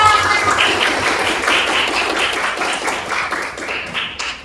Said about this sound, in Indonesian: tepuk tangan untuk Egi semua ya